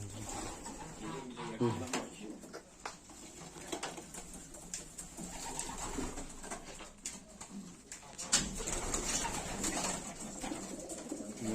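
Pigeons cooing outdoors in Sakarya, soft repeated coos close by amid rustling and light handling noise, with voices talking quietly around them.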